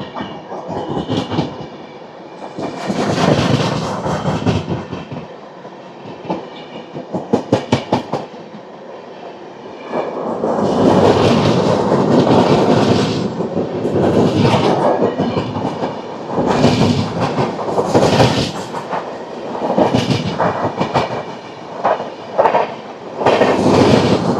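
The Garib Rath Express 12739, Visakhapatnam to Secunderabad, passes at speed near Charlapalli railway station, with a long, loud, close rumble and repeated clickety-clack of wheels over rail joints that keeps surging as coaches go by.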